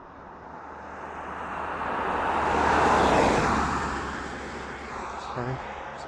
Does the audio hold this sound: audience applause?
no